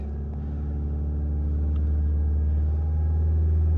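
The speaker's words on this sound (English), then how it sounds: "Give it a little rev up. 2 grand." A Ford Kuga engine with a P2002 fault code revs to around 2000 rpm, a steady low rumble that swells slightly and holds, close and continuous with no talking.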